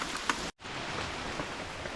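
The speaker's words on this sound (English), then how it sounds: "It's just raining too bad" Heavy rain pours steadily in a Costa Rican rainforest near the hanging bridges of a lodge, a dense close hiss with a brief dropout midway.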